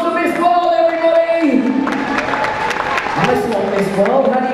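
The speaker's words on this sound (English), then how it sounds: "Round of applause for Miss World, everybody" Audience applauding for Miss World at a Guinness World Records science New Year's Eve show, a crowd's clapping and cheers beneath a loud voice talking over it throughout.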